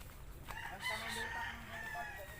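A rooster crows at a chicken farm, a single drawn-out call at moderate distance, with faint clucking and a voice in the background.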